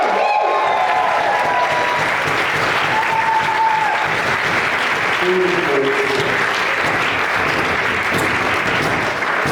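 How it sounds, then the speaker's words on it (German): An audience at a Swiss folk music choir's tenth-anniversary concert bursts into loud, sustained applause, a thick wash of clapping with some crowd noise and voices mixed in, holding steady for nearly ten seconds. "Kurz mal Applaus für Alfred Level!"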